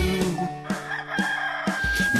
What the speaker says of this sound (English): And we all know who goes cock-a-doodle-doo.